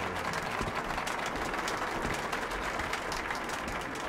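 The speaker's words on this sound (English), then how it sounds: "A round of applause," Theatre audience applause in Metro: Last Light Redux, a dense, even wash of clapping from a crowd, fairly faint and steady throughout with no speech over it.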